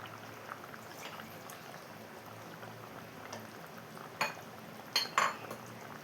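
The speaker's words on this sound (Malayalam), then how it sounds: "ഞാനിതിലേക്ക് 1 കപ്പ് തേങ്ങാപ്പാലാണ് ഒഴിച്ചു കൊടുക്കുന്നത്." Coconut milk poured into a boiling Kerala-style fish curry, heard as a steady close bubbling with a soft pour and a few sharp metal pot and utensil clinks near the end.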